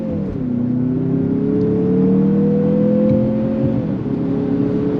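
A 2024 Mazda CX-50 Meridian pulls hard under throttle, its engine note rising steadily through a 6-speed automatic with a clear, smooth upshift near the end; the drone stays loud and continuous inside the cabin.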